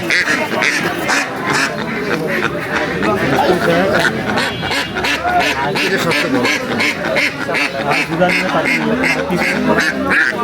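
Ducks quack repeatedly throughout at a busy duck market, with buyers and sellers talking and bargaining over the steady noise of the flock.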